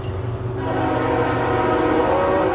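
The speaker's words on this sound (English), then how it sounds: "Because there's a train about to pass," A train passing nearby along a rail line, its horn sounding loud and steady over a continuous rumble of rolling cars throughout.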